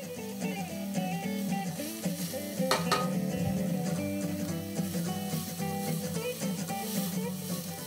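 Yellow and green peppers cook over medium heat in a pot while a utensil stirs them, a close, steady scraping and clinking over a soft sizzle, with music playing underneath.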